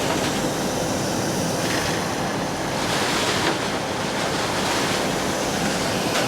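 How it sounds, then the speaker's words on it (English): Stones rattle as they are sucked up through the plastic nozzle of an RSP ESE 6 suction excavator, over a continuous loud rushing airflow roar, with faint clattering bursts. "So these stones are just an easy job for the suction excavator."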